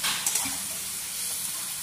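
Spice masala with coriander-cumin powder and salt sautés in a pan as part of a jackfruit kofta curry, giving a short, bright sizzle with a light stir near the start, and no voices.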